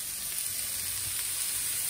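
Pork belly for humba fries in a pan with no added oil, giving a steady, soft sizzle up close.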